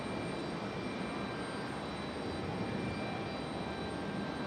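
Republic Airways jet airliner at Raleigh-Durham airport in stormy weather, a steady broadband jet engine roar that stays even and moderately distant throughout, with no voices.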